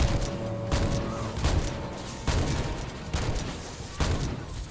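Ship cannons in a Halo Online custom game fire in a string of heavy booms, several roughly evenly spaced blasts rolling over a constant low rumble of battle.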